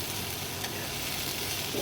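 Bitter gourd and potato fry in oil in a pan, giving a steady, even hiss of sizzling that holds throughout, with a faint clink near the end.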